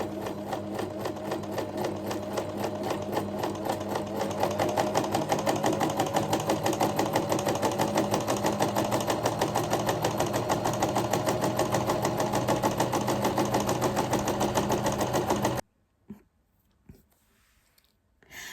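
A sewing machine stitches fabric in a fast, even mechanical chatter, loud and close for about fifteen seconds, then stops abruptly, leaving only a few faint clicks.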